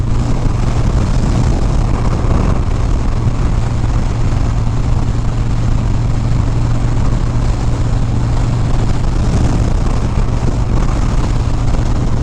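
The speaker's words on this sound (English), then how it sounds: "it's getting windy now" Steady, loud wind buffeting the microphone in Michigan City with a constant low rumble and no pauses.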